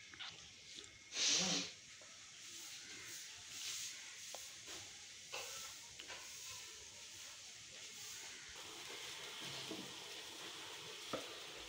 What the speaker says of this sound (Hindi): तेज आंच पे करेंगे सब्जियां फ्राई